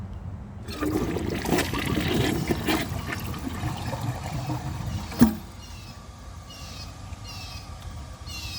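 A 2012 Glacier Bay high-efficiency toilet, handle held down, flushes a dish towel with a loud, close rush of water that swirls for several seconds, then a sharp clunk and a quieter trickling refill.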